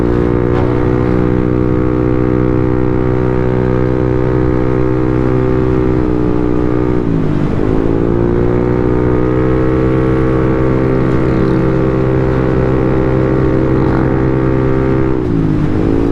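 A Yamaha Aerox scooter accelerates with a loud, steady engine drone that rises in pitch, dips briefly twice and climbs again, close and continuous throughout.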